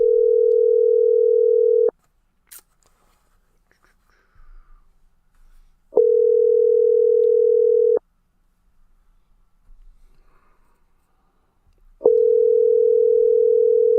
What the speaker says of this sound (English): let's try calling him again. Tim. We'll do it on the computer this time.